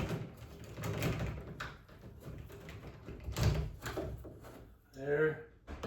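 Door knob hardware parts being slid into a door during installation, giving soft scraping knocks and rattles while a person speaks.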